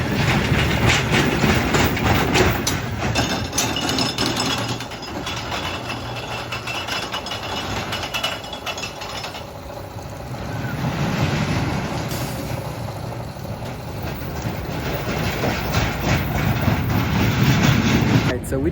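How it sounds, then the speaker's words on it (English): A roller coaster train at a Fun Spot park in Florida rumbles and clatters along its track after overshooting the brakes, loud and continuous, swelling and easing as it travels, with voices mixed in. "The train overshot the brakes, but they sent us out anyway."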